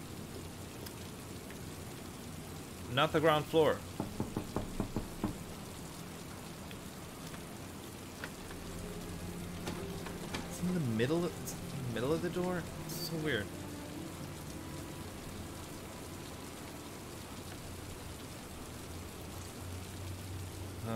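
Rain falling in the video game Heavy Rain as a soft, continuous wash of drops, with a person's voice talking over it at intervals.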